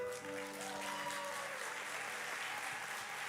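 A church congregation applauds steadily and fairly loudly throughout, a dense clatter of many hands, with sustained organ or keyboard tones ringing underneath.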